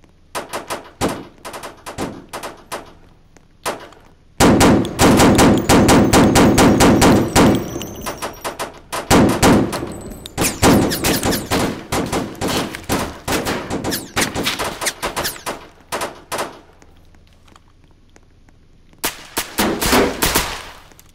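Shotgun and pistol shots in a Roblox game: loud close bursts of rapid gunfire in irregular clusters, a dense volley in the middle, then scattered single shots and a final quick burst.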